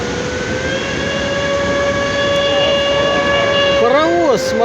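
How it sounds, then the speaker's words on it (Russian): A real steam locomotive passing near a waterfall, a steady, loud rolling rumble with a sustained tonal whistle, then bending, swooping tones near the end, while voices are briefly heard. "Паровоз, смотри, он едет."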